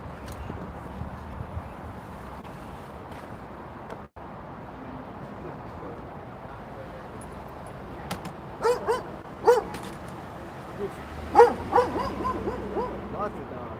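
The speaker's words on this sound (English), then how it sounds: "There's like 4 dogs in that truck." Several dogs in a truck at a street protest in Portland give short yips and barks, quiet at first and then in scattered bursts over low crowd and street noise with people talking.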